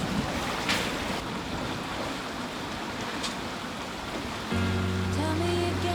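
Ocean waves wash and surge around a sailing boat cutting through the sea, a steady broadband rush with wind noise on the microphone and a faint tonal hum joining near the end.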